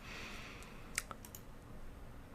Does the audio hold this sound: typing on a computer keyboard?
yes